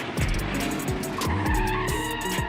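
A race car skids out of control and drifts back onto the track, with tires squealing and scraping under a loud, continuous engine roar that shifts pitch as the car slides.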